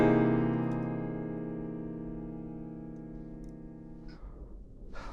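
A single piano C dominant 7 chord voiced with a flat 3 and flat 13 rings out and slowly decays for about four seconds before fading into faint room noise.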